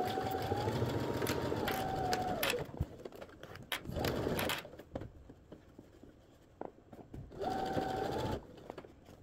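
A home sewing machine stitches pleats on a farmhouse-style skirt in two steady, close humming runs, the first about two and a half seconds and the second shorter near the end, with fabric handling and small knocks in the pause between.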